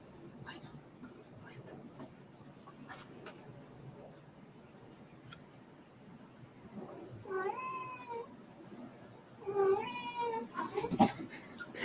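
A domestic cat meows a few times at a moderate distance, the clear rising and falling calls coming in two short bursts after a stretch of quiet room noise.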